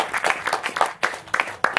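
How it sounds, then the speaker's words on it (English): Scattered clapping from an audience at a common law talk, a brief loose burst of separate claps rather than a full ovation, fairly thin and uneven. "Give yourself a round of applause."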